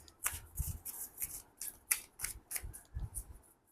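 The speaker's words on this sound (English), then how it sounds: "I just shuffle the cards once properly" Oracle cards are shuffled by hand in close, crisp bursts of riffling and slapping, several quick rounds in an uneven rhythm, with no talking.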